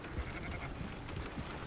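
Sheep bleating in the Red Dead Redemption 2 game world, a short muffled bleat early on over steady ambient game noise, no talk.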